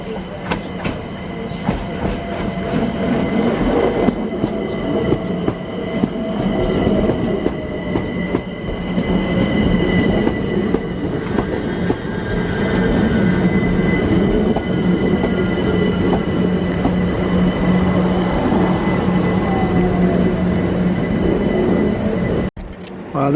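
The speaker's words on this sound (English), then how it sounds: "This is a train going to Clapham Junction via Shepherd's Bush" A London Overground train to Clapham Junction rumbles steadily along the rails for most of the clip, with metallic clatter and a faint wheel squeal, close and loud, then cuts off abruptly near the end.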